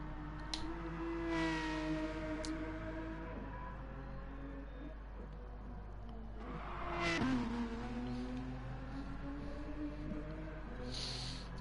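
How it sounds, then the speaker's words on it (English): A GR3 race car spins doughnuts just past the start-finish line at Spa in Gran Turismo, its tires squealing in long wavering howls over a constant engine drone, with a second squeal swelling midway. "Somebody there doing donuts just after the start-finish line."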